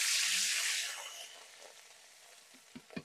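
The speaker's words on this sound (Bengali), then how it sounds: "এবার আমি কড়াতে পেঁয়াজ বাটাগুলো দিয়ে দিলাম।" Onion paste hits hot oil in a wok and sizzles loudly at first, fading to a softer fry, followed by a few light clinks and scrapes of stirring, with no voices.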